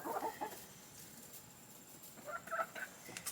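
Backyard chickens cluck softly nearby in two short bursts of murmuring calls separated by a quiet pause.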